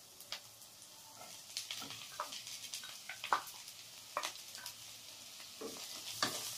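Three chillies and garlic fry quietly in a pan, a soft crackling sizzle broken by scattered clicks and scrapes of a stirring spoon, fairly faint and close.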